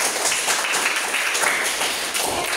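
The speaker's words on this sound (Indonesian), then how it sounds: "mari kita berikan tepuk tangan" A classroom group gives a steady round of applause for a student team, dense continuous clapping from many hands at even loudness throughout.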